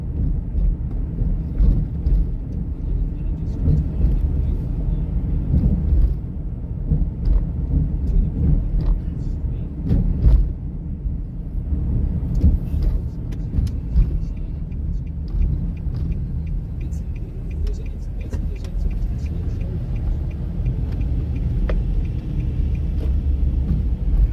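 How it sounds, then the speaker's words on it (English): A car on rough roads makes a steady deep rumble with scattered rattles and knocks throughout, and a person talks over the road noise. "Sounds like a car's just gonna fall apart."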